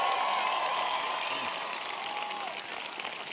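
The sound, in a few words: audience round of applause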